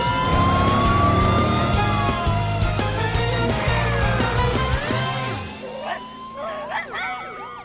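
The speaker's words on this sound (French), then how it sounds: "Voiture de police Blaze à la rescousse." A police car siren from the Blaze and the Monster Machines cartoon wails loudly and steadily over a rumbling engine, then the engine cuts out and the siren fades while lighter cartoon sounds follow.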